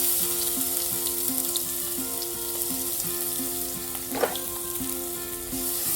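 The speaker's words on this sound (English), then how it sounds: "And now we have to brown this garlic." Chopped garlic frying in oil with a little hing for dal makhani, a steady close sizzle throughout with light stirring scrapes and a brief louder clatter near the end; no voices.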